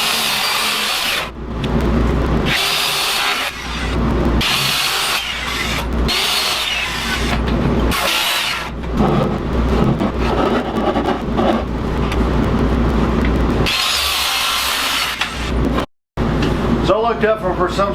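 A power tool cuts a hole in the wall of a homemade RV built from a 1977 Peterbilt, running loud and close in long bursts separated by brief stops.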